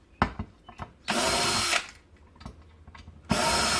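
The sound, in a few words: DeWalt 20 volt max drill driving screws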